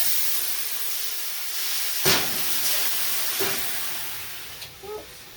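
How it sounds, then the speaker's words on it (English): Water hits a hot baking pan inside an oven, readying it for sourdough bread, and sets off a sharp hiss of steam. Another brief burst of hissing follows, with a few small pops near the end. "I want to create a little bit of steam inside there"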